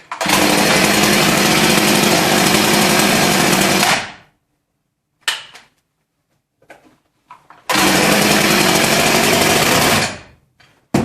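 A Husqvarna 351 chainsaw with a faulty clutch roars loudly at full throttle for about four seconds, cuts off, then after a few faint clanks and rattles revs hard again for another three seconds before dropping away.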